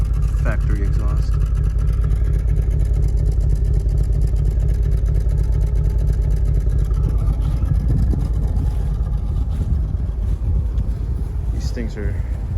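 A 1995 Mitsubishi Eclipse GSX's factory exhaust idles with a deep, steady low rumble throughout, some wind buffeting and muffled voices underneath.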